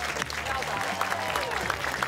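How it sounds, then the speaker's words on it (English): A studio audience applauds in a short, dense burst of clapping that holds steady for about two seconds, close and lively. "Let's give him a round of applause."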